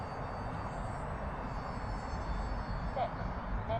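A UMX Turbo Timber Evolution RC plane at full throttle gives a steady, continuous whine and buzz in flight, loud throughout, with wind noise.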